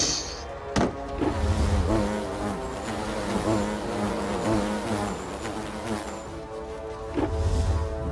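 Loud, continuous buzzing of a swarm of bees from a hurled beehive in a fantasy video game, droning steadily throughout with no voices over it.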